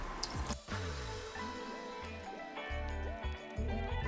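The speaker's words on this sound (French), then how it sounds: "une fois qu'on a fait chauffer le vinaigre, on va venir le verser" Hot vinegar poured down a drain makes gurgling, bubbling and glugging pulses as it flows and drains away, close and fairly loud, with no voices.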